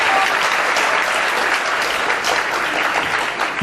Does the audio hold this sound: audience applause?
yes